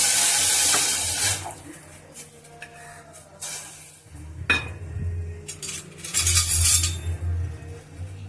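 Water poured and splashing in a kitchen while cooking with jaggery for kozhukattai, with bursts of running water, clinks of utensils and metal pots between quieter pauses, no talk.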